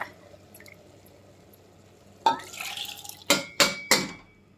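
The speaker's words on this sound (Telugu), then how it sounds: "ఫస్ట్ కందిపప్పు వేసేస్తాను నీళ్ళతో సహా" Soaked toor dal goes into a pot along with its soaking water, a sudden wet splash followed by three sharp metallic clanks of a vessel against the pot, all close and without talk.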